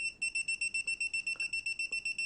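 A Mustool C21 multimeter's non-contact voltage detector beeps near a live wire: rapid high-pitched electronic beeping repeats in a steady fast pulse, about a dozen shrill chirps, close and fairly quiet.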